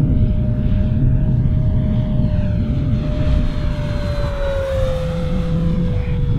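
An FMS P-47 Razorback 1500mm RC warbird on its maiden flight roars past at full speed, a loud sustained engine drone with a steady whine that dips slightly in pitch as it passes.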